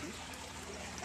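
Water circulates steadily through an aquaponics tank driven by two pumps, a faint continuous trickling and pouring wash with no breaks.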